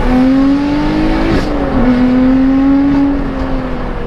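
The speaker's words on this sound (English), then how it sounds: "That V6 sings!" A V6 car engine revs hard and steadily, its rising tone sung out loud and close, with a brief dip and shift midway before climbing again, near the Goodwood site.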